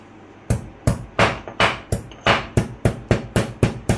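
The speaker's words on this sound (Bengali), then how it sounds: "এবার আমি এই গোলমরিচগুলোকে গুঁড়ো করে নেব হামালদিস্তাতে।" Black peppercorns pounded coarsely in a mortar and pestle, heard as about a dozen sharp, close, evenly spaced thuds with short rings, steady and rhythmic with no talking.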